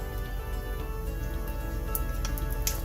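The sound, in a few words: water running while rinsing hands at sink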